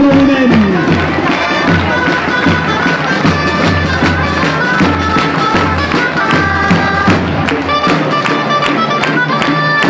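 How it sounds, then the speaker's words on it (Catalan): A crowd claps loudly and steadily for the giant bearers from Sant Pol at a gathering of festival giants in Calella, with continuous applause and scattered cheers over music throughout. "Un fort aplaudiment als geganters de Sant Pol."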